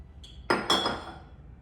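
Glass canning jars clink sharply against each other and a stock pot as chicken stock is poured, two bright knocks ringing out in a quiet kitchen and fading.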